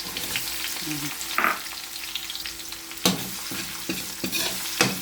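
Garlic followed by chopped onion dropped into heated cooking oil for pork pata kaldereta, giving a steady close sizzle and crackle under brief stirring clatters, with no talking.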